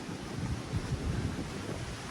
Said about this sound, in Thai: โหตรงนี้ลมเย็นมาก